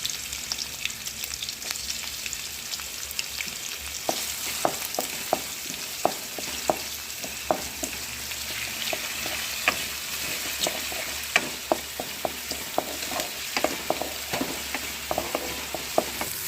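Okra pieces fry in oil in a pan, a steady sizzle with repeated crisp scrapes and clicks as they are stirred, close and fairly loud throughout with no voices.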